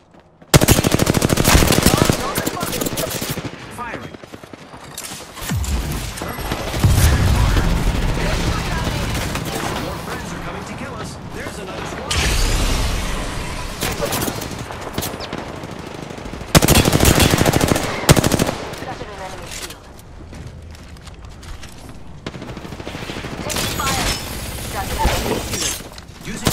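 Rapid automatic gunfire in a shooting video game comes in loud repeated bursts and crashes, separated by quieter stretches, with a voice talking at times.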